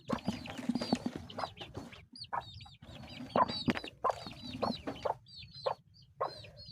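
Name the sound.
chicks clucking on a poultry farm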